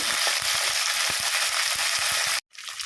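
Fenugreek leaves and green chillies frying in oil for a tomato-fenugreek roti chutney, a steady loud sizzle with soft stirring taps, cutting off abruptly near the end.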